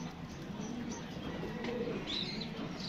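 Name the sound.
pigeons cooing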